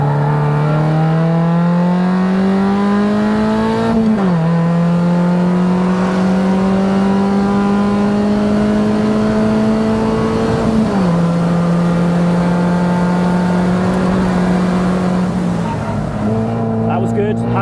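A race car brakes and downshifts from third into second, its loud engine note climbing steadily and then dropping sharply at each gear change, repeated several times close up with no break.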